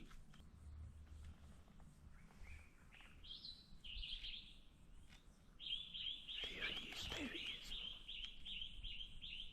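Several blue duiker calls, whistled chirps rising in pitch, then a longer sustained high call, heard against quiet outdoor background.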